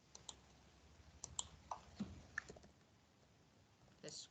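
Keyboard typing in a classroom setting: a handful of scattered, irregular key clicks, fairly faint and close, with a few louder taps near the end and no talking.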